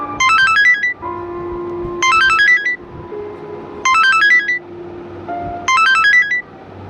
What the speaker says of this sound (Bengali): খানিক বাদেই মোবাইলটা বেজে উঠল